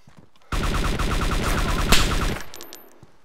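Gunfire in DayZ rattles off as a rapid, steady burst of automatic shots lasting about two seconds before cutting off, loud against near silence, with a brief crackle afterwards.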